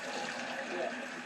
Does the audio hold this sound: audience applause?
no